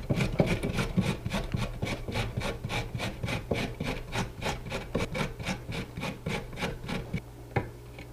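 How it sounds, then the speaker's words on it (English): A carrot being grated for coleslaw, a steady rhythmic rasping of repeated strokes across the grater, close and fairly quiet, with no voices. "grate your carrot"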